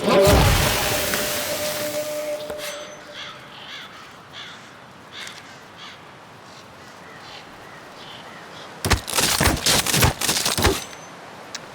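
Gunfire in the video game Lies Beneath comes in a sharp burst of rapid shots late on, after a loud opening hit and a quieter stretch of low ambient tones.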